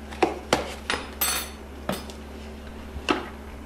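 A utensil clinks and scrapes against a bowl as batter for rhubarb bars is mixed, with irregular sharp knocks and brief rubbing strokes over a low steady hum, close and fairly quiet.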